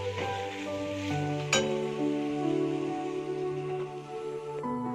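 Banana flower dropped into sizzling fried spice paste in oil, a steady hiss with a sharp clink at about one and a half seconds and light stirring, close and moderately loud.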